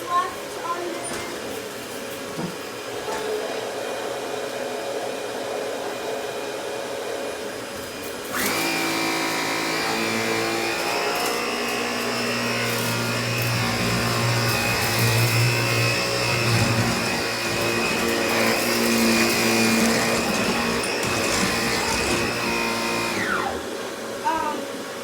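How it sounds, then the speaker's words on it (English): A Bissell Pet Hair Eraser vacuum cleaner starts up partway through with a loud motor whine and droning hum that runs steadily for about fifteen seconds before cutting off, with a person talking before and over it. "This vacuum is very nice."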